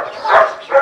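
A dog gives a short, close, loud bark, followed a moment later by a second softer yelp-like bark.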